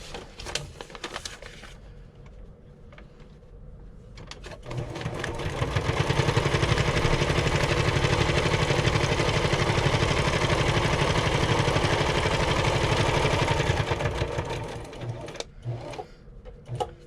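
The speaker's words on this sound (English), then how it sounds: "So what I'm going to do is actually just stitch down the center of all these papers." A sewing machine stitching down the center of a stack of papers for a handmade journal, a steady loud mechanical whir lasting several seconds, with quieter handling noises before and after.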